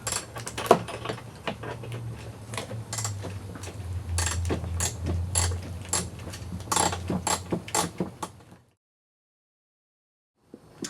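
Ratchet tightening a bolt on an Audi A4 B5 1.8T during timing belt work, a run of quick close clicks and metallic taps for about eight seconds, then silence.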